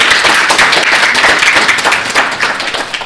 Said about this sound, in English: you guys can give a round of applause, please